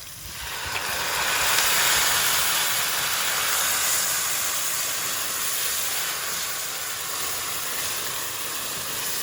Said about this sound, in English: We're going to let that wine cook down.